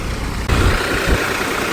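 A tractor engine runs steadily and loudly while it drives a Nataraj thresher, giving a constant low, rumbling drone with broadband mechanical noise, and a slight step up in level shortly after it begins.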